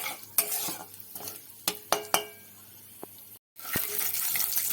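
Whole cumin seeds with five-spice seeds frying in oil in a home kitchen pan, stirred with a utensil: a steady low sizzle broken by sharp scraping clicks and knocks of the spoon against the pan, close and moderately loud.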